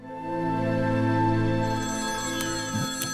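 A phone ringtone plays in a scene from a Hindi-dubbed film, a loud sustained electronic melody that fades slightly toward the end with a couple of brief clicks, and nobody talks over it.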